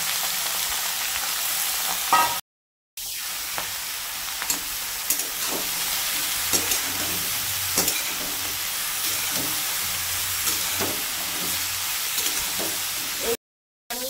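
Bottle gourd tipped into a hot pan of oil with white cumin and stir-fried, giving a steady close sizzle with scattered scraping stirs, broken by two brief silent gaps.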